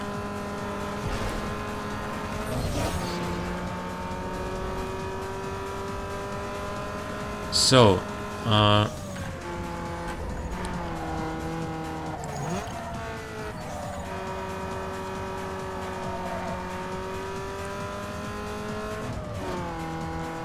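Mazda Miata race car in Need for Speed Underground 2, its engine droning and revving through gear changes while cornering, with two short loud tire squeals midway; someone talks over the steady engine.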